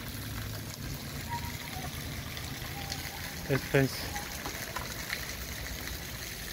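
Rainwater runs steadily after a storm in Chavinda, a continuous trickling wash of water heard nearby, with a person speaking briefly over it.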